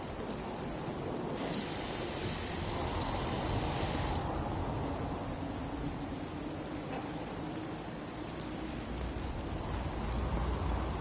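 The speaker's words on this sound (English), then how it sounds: "Hope this rain lets up soon." Steady rain pours down in the Fallout 4 game world, a continuous broadband hiss of drops on surfaces holding even for the whole stretch, close and enveloping, with a brief brighter patch of spatter early on.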